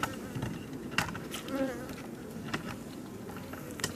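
Honeybees swarm around a humming hive, their dense buzzing steady throughout with brief louder passes as individual bees fly close.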